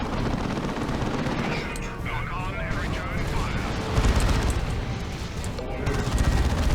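Lascannon and missile launcher fire from the Dawn of War 2 video game sounds as repeated booming blasts and crackling volleys over constant battle noise, with a voice talking throughout and heavier impacts toward the end.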